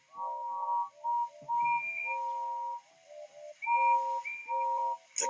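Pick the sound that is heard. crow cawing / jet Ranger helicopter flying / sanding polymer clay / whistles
whistles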